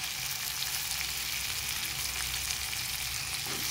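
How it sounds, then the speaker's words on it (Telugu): Brinjal pieces fry with green chillies in a hot pan for a mango and brinjal curry, giving a steady, close sizzle with no talk over it. "ఇప్పుడు మనం ఇందులోకి ముందుగా కట్ చేసి పెట్టుకున్న వంకాయ ముక్కలు వేసేద్దాం"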